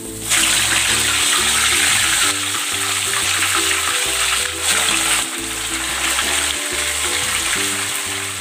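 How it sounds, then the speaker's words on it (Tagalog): Tilapia frying in a pan of oil gives a loud, continuous, hissing sizzle up close, with bubbling crackle that holds steady throughout and no voices. "Pwede na natin itong iprito."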